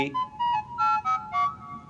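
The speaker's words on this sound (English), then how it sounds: "That's the sound of me receiving a text message." A short electronic phone text message alert melody of about five bright, chiming notes plays in quick succession, clear and alone against silence.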